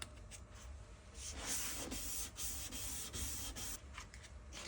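Steady, soft back-and-forth rasping of 800 grit sandpaper rubbing an acrylic turntable dust cover, close and fairly quiet with no talk.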